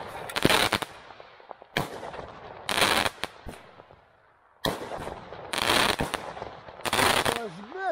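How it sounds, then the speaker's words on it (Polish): Cheap Yellow Peony and Gigant 3 Iskra Super firework cake batteries fire in loud outdoor bursts of rapid crackling shots separated by short pauses, with a brief whistling tone near the end. "Uciekaj, bo on wybucha szybko."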